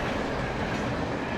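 A train rumbles past at close range in Alan Wake Remastered, a loud steady roar of rolling wagons and wheels with no voices over it.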